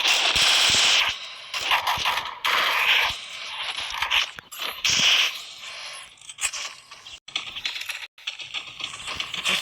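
Rapid bursts of MP40 submachine gun fire in a video game match against bots, crackling in repeated short volleys with brief gaps, loud and close throughout.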